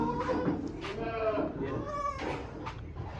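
Young goat kids, about ten to twelve days old, bleat on a goat farm in Alirajpur, Madhya Pradesh, several wavering cries rising one after another close by, with someone talking over them.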